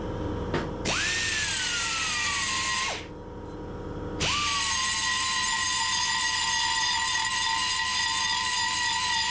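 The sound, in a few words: belt sander skimming over filler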